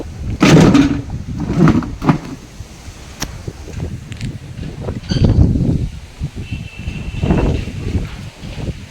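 Gusty wind blows and leaves rustle in surges outdoors during a stormy spell, loud bursts rising and falling with occasional knocks, close to the microphone.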